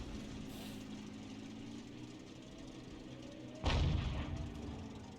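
An artillery gun fires a single round in a tank battle game, a sudden low boom with a sharp crack partway through, which then rumbles away under a steady engine drone.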